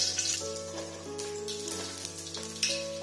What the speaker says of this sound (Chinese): 用筷子直动给它翻动，把腐竹煎至金黄起泡就可以了。